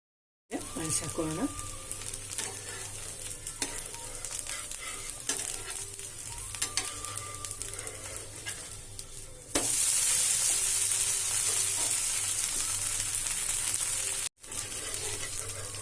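Dosa frying in oil on a pan, a steady close sizzle running throughout that swells into a louder, brighter hiss partway through, with a voice speaking over it.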